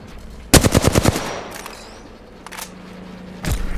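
Gunfire in Apex Legends: a rapid burst of automatic shots up close, followed by a few sparser shots and impact sounds.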